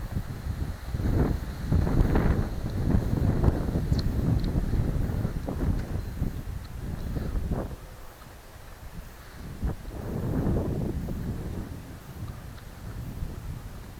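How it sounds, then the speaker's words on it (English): Gusty wind buffets the microphone outdoors, rising and falling in loud rumbling waves that ease off midway, then pick up again. "it is windy out"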